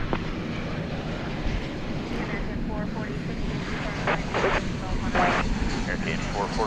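Jet aircraft taking off from runway 18 left at DFW Airport, a steady broadband engine roar held throughout at a distance, with air traffic control radio voices talking over it.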